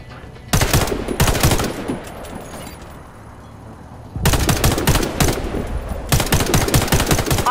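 Automatic gunfire at a target in the video game Warface: three loud, close bursts of rapid shots separated by short quiet gaps, with no one talking.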